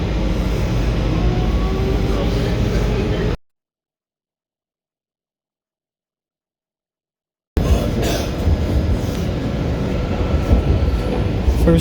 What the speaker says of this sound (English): First time on this journey passing a freight train.